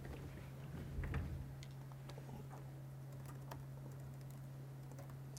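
Quick, light tapping on a computer keyboard while typing a search into Google, a steady patter of close, faint key clicks over a low constant hum, with no talking.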